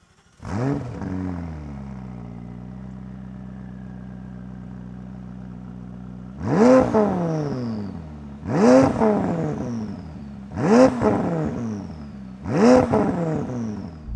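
A McLaren 570GT idles steadily, then pulls away with four sharp, loud revving surges in a rhythmic series, each rising and falling in pitch as it accelerates through the gears.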